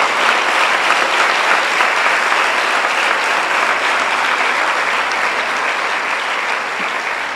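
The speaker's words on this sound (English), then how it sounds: "Let us put our hands together in applause for all those people who came and spared their time." A large satsang audience claps steadily in a dense, even wash of applause that holds loud throughout and eases off slightly at the very end.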